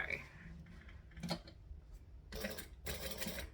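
A sewing machine runs a back stitch in a few short bursts of rapid mechanical whirring, separated by quiet pauses as the fabric is handled. The sound is close and moderately loud.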